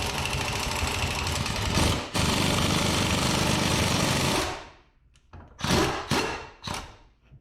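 An impact wrench hammers loudly and steadily for several seconds, tightening a socket onto a ball joint during a car ball joint replacement, then stops and gives two shorter bursts.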